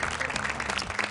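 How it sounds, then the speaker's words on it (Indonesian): An audience claps at a televised Qur'an recitation competition grand final, a dense burst of steady applause that lasts the whole second. "tepuk tangan buat Zulfikri."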